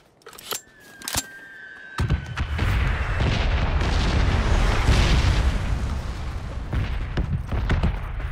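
A sustained explosion in the video game PUBG, with a sudden heavy boom after a few sharp pops, then a loud rumbling roar that stays steady and close for several seconds.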